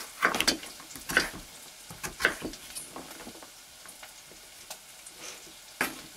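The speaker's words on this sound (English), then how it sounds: "now you can hear the onions are a bit more, they have a bit more heat." Onions frying in a pan over higher heat, giving a steady close sizzle broken by several bright scraping stirs near the start and one more toward the end.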